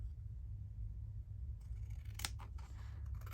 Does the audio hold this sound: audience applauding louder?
no